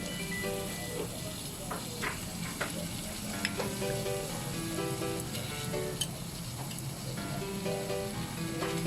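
Menudo pork cubes fry in a pan for a pork curry with a dense, steady sizzle, close and loud, with occasional stirring scrapes and pops and no talking.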